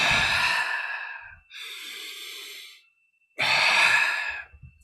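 Deep chest breaths, a long loud inhale, a shorter breathy exhale, then another strong inhale, close and airy with soft gaps between.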